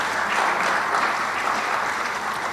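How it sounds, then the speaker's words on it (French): An audience at a banquet claps to encourage a woman, a CRTV radio deputy editor-in-chief; sustained, loud, even applause from many people fills the whole moment without a break. "on l'applaudit quand même pour l'encourager"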